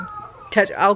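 A young child cries and whines in short rising wails at close range, a brief outburst after a quieter moment.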